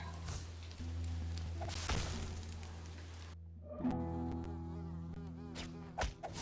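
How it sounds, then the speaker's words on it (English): Red bees buzzing in the video game Ittle Dew 2, a dense insect drone that suddenly drops out and gives way to thin whines and soft game effects. "these red bees always tear me apart"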